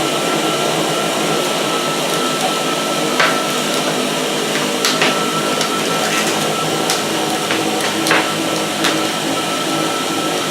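Ryobi Devour 18-volt One+ cordless floor sweeper running steadily with a broad, even motor whir and brush hum, close by, with scattered brief clicks and ticks of debris being picked up throughout.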